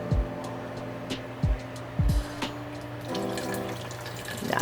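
Hot chicken soup broth drains through a strainer with a steady trickle of liquid, broken by a few close clunks and knocks of the pot or utensils.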